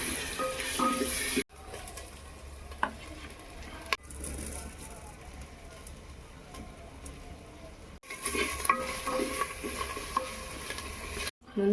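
Garlic and ginger frying in a clay pot over a village wood fire, a soft steady sizzle with stirring scrapes, cut by abrupt breaks into several segments, close and fairly quiet.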